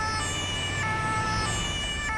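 Ambulance siren from the video game GTA 5, sounding from a Mercedes E-Class ambulance responding to an injury accident, a loud, continuous wailing tone that holds steady with a slight pitch shift.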